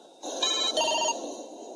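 A cell phone rings loud and close, its electronic ringtone starting after a brief pause and running in two bursts, used to test a signal-blocking pouch, with no voices.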